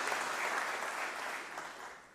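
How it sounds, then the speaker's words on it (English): A conference audience claps for a presenter in a dense, even wash of applause that stays steady and fairly soft before tapering slightly toward the end, with no talking over it. "he deserves a round of applause"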